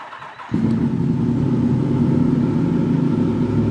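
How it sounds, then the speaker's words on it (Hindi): A 2017 Yamaha MT-10 motorcycle with an inline four-cylinder engine starts with a sharp burst, then settles into a loud, steady, rumbling idle heard close up without talk. "इनलाइन 4 सिलेंडर्स, ये एक धाड़ थी इसकी।"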